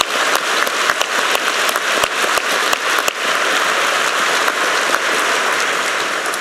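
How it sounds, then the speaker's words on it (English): An audience claps after a keynote at an academic conference of European universities, steady dense applause filling the room with sharp individual claps standing out, loud and sustained with no speech over it. "So may we please thank everybody by hand with an applause."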